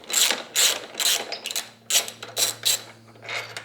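A regular nut and washer come off a crash cage mounting bolt on a Kawasaki Ninja ZX-4R, heard as bursts of quick ratchet clicking close by, with brief pauses and a light metallic clink between them.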